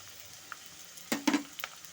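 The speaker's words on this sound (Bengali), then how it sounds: "আলু আর গাজরটাকে ভালো মতো করে আমি একটু ভাজা ভাজা করে নেব।" Potatoes and carrots fry gently in a pan, a quiet, soft sizzle. A short cluster of stirring scrapes rises briefly in the middle.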